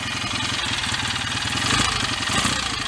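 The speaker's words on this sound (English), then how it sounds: "The engine's sounding nice enough." A BSA A65 motorcycle engine ticks over at idle with its tick-over screws freshly adjusted, a close, steady throbbing pulse with fine mechanical clatter and a slight swell midway.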